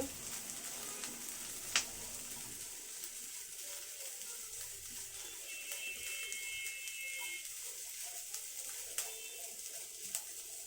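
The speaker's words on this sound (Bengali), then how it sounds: "হাফ কাপের মতো পেঁয়াজ কুচি দিয়ে দিচ্ছি" Chopped onion and garlic sizzle in a pan for a spicy coconut prawn dish, a soft, steady crackling hiss with occasional sharp ticks and faint stirring, no voices.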